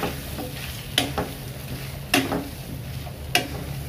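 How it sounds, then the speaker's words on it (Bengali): Potato and okra pieces coated with turmeric and salt frying in a pan, a soft steady sizzle broken by a few sharp spatula clicks and stirring taps, close and without talking. "হালকা একটু ভেজে নেব আলুটা আর ঢেঁড়সটা"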